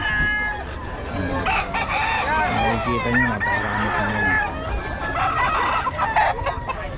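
Several roosters crow and chickens cluck close by at a market in Bocaue, overlapping in a busy chorus while someone talks over them.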